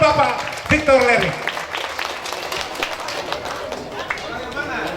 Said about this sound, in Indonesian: Sekali lagi kita beri tepuk tangan untuk Bapak Victor Lerik.